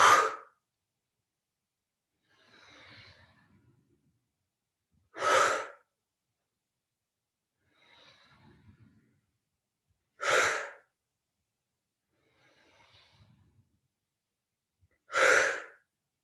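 Forceful breathy exhales during a bowing breathing exercise, four sharp bursts evenly spaced about five seconds apart, with softer inhales audible between them; no speech.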